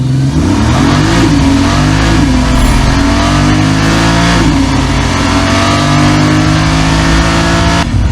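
A loud 2026 Porsche 911 Turbo S engine revs repeatedly, rising and falling in pitch, close up and continuous with no talking.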